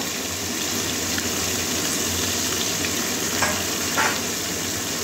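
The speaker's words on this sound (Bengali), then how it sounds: "তেল গরম হয়ে গেছে, এবারে মাছের মাথাটা ভেজে নেব।" Steady, close sizzling of a rohu fish head frying in hot oil, a continuous crackling hiss with a few louder spits.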